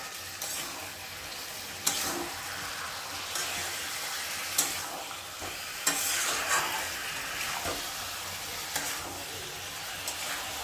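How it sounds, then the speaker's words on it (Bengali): Chicken sautéing in a pan with a steady soft sizzle, broken every couple of seconds by sharp scrapes and clicks of a spatula as it is stirred, fairly quiet and close. "কষিয়ে নেব চিকেনটা।"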